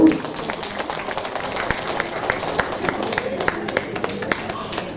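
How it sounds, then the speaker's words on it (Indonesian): Audience applause at a formal Mother's Day ceremony, a steady patter of many hands clapping throughout at moderate loudness, with no talk over it. "Kita berikan tepuk tangan sekali lagi Bapak Ibu."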